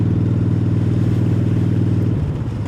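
Honda Shadow 750 Aero chopper fitted with a velocity stack, riding along with a loud, steady, throaty engine drone up close that drops in pitch near the end as the rider shifts or eases off.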